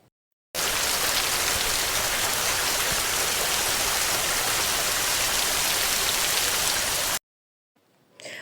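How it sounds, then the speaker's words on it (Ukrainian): Steady rain pouring down on an autumn day, a dense even hiss that holds continuously for several seconds and then cuts off, with a faint trace of sound after it. "і починається дощик"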